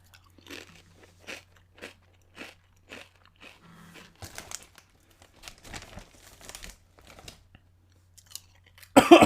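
Crunchy Voodoo Zaps chips being chewed close up, a regular series of sharp crunching bites with short pauses, ending with a louder crinkle of the bag.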